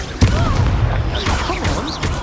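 A Confringo fire spell blasting in Hogwarts Legacy gives one sharp, close bang near the start, followed by a rumbling, crackling explosive tail and scattered whooshing magic effects.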